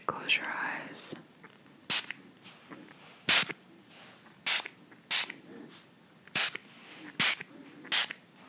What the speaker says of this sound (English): I'm just going to spray one more little spritz of this toner